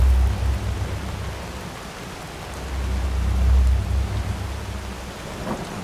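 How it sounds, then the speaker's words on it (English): Rain pours steadily in the Skyrim mod Enderal, a continuous broad hiss with deep rumbling swells of thunder rising and falling underneath, with no one speaking. "this looks exactly the same, except it's raining"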